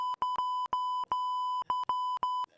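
A series of clean electronic beep tones, about ten in a row, each a steady pitch lasting a fraction of a second with short gaps, loud and close with no other sound.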